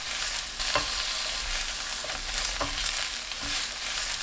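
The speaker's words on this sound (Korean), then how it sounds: "20초 볶은 뒤 양파, 청경채 넣어주세요. 중불로 1분 30초 볶습니다." Pork neck stir-fried with onion and bok choy in a pan over medium heat, a steady close sizzle with a few soft spatula stirs, no voices.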